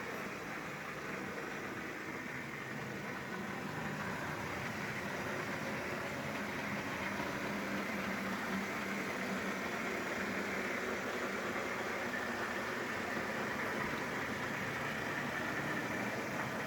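Three Lima BR216 OO gauge model locomotives run together on the same track, giving off a steady, unbroken electric motor whir and rail rumble that holds at an even level throughout.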